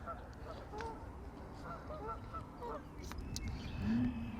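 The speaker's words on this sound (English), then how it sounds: "there's definitely a lot of geese" A flock of geese at a pond gives faint, scattered honks over steady low background noise.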